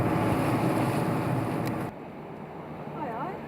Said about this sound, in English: at these confused, choppy waters due to the tidal flow